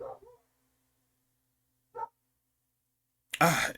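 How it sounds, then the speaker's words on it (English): A dog barks a few times somewhere in the room, a short muffled yip near the middle and a louder, sharper bark at the end, with brief human vocal sounds at the start. "I don't know if you heard a dog or not."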